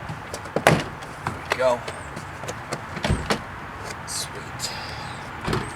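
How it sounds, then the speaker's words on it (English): Plastic retaining clips on a Nissan Versa driver's side front door panel pop loose as the panel is pried off, a few sharp snaps and scrapes spaced irregularly among handling rustle, with a person talking briefly. "You can now remove the door panel from the lower corner"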